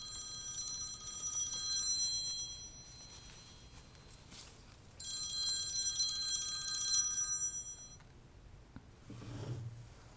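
A phone rings during a painting lecture in two long bursts of bright, bell-like trilling a few seconds apart, each fading as the ring stops.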